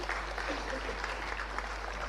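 Steady applause from a crowd, dense clapping holding at an even level for a couple of seconds, with faint voices mixed in.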